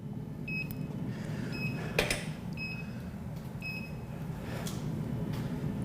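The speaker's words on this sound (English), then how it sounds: "You could hear it beeping on and off." Short electronic beeps repeat on and off at a steady pitch over a constant low hum, with a few faint clicks between them, from a PICO lab scope.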